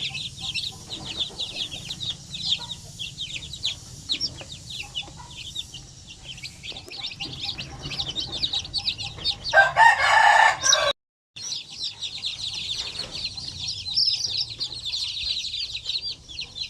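Purebred Basilan chickens, a flock of hens and roosters with chicks, cluck and crow steadily up close, with one louder crow rising in the middle of the continuous farmyard chatter.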